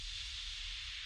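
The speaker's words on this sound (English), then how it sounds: "I have just a regular white noise effect" A steady white noise sweep from a dubstep track breakdown, a continuous broad hiss with a low rumble beneath, held at an even level throughout with no voices.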